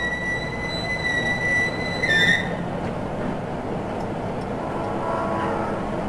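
Roller coaster train on its first run along a test track in Clearfield, Utah, rumbling steadily with a brief metallic wheel squeal, heard from nearby with no voices.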